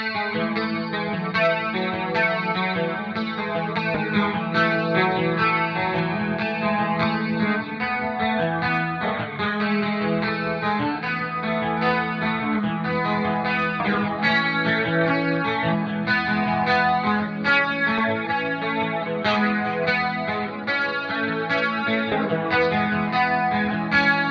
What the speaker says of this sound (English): I'll flip back and forth here between our chorus setting and our doubler setting